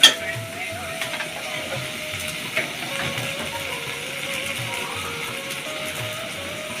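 Spices fried in a pan with a splash of water and ginger paste, stirred steadily: a soft, continuous sizzle with light scraping, fairly quiet and even throughout.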